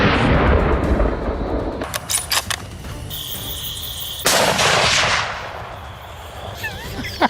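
Gunshots ring out across an open field during a wild boar hunt, several sharp reports cutting through steady insect chirping, with a louder blast near the middle trailing off into the field.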